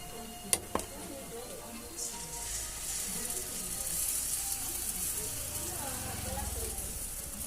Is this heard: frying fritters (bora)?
yes